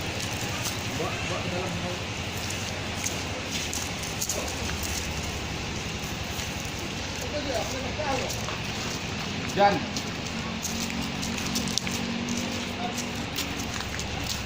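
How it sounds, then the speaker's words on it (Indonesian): Steady rain falls outdoors as an even, continuous hiss, with voices talking over it. "Hujan. Hujan."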